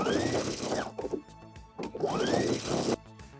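A sewing machine stitches the lining hem of a blazer in two sustained runs, each with a rising whine, separated by a brief pause with soft clicks and handling noise.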